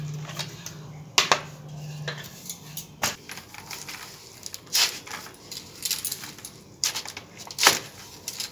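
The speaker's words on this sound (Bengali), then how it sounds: "এরপর শাকগুলোকে আমি একটু কেটে নিচ্ছি।" A knife cuts fresh drumstick (sojne) leaves on a board in a home kitchen: irregular faint taps and clicks, some sharper chops spaced unevenly, close and quiet with no talking.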